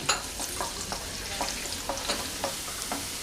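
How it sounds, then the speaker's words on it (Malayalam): Ginger and garlic sauté in hot coconut oil for a Kerala prawn roast: a soft steady sizzle with regular spatula taps and scrapes against the pan, close, no talking. "വെളിച്ചെണ്ണ ചൂടായിട്ട് നമ്മൾ കട്ട് ചെയ്ത് വെച്ചിരിക്കുന്ന ഇഞ്ചി, വെളുത്തുള്ളി ഇട്ടൊന്ന് വഴറ്റുക"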